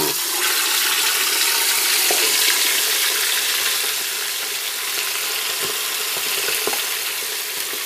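Loud, constant sizzle of chicken frying in a hot pressure cooker, with a few brief clicks and scrapes over the hiss; no one speaks.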